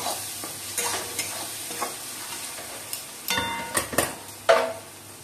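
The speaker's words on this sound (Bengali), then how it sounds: "মাংসটা দিয়ে দিচ্ছি।" Mutton pieces added to a pan of cooked-down spices over low heat sizzle and fry steadily, with a few louder stirring scrapes and clatters of a spoon against the pan toward the end.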